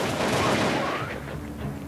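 Machine gun fire in the video game Crisis Action, a dense burst of rapid shots at moderate level that fades into a softer rattling tail, with no talk.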